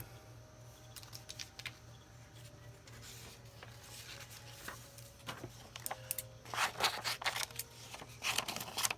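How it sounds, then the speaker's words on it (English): Worn, dull scissors snip paper during journaling at a desk, a few scattered short cuts and rustles over a low steady hum, with bursts of louder paper crinkling near the end. "these scissors have just had it"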